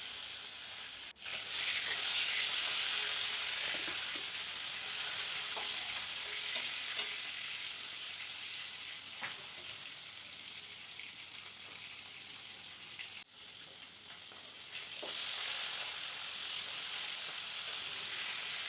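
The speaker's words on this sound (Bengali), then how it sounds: "মাছটাকে এবার ভাজা করে নেব, একটু লালচে করেই ভাজা করব।" Thin datne fish sizzles steadily in hot oil, a close, continuous frying hiss that holds for the whole stretch, with faint stirring and pan noises and no talking.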